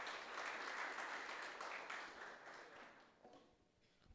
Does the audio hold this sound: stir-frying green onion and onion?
no